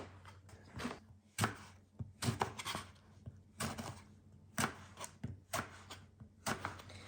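Knife chopping eggplant into wide half rings on a board, a steady series of crisp close thuds in uneven rhythm, some in quick pairs, with light rustling between cuts.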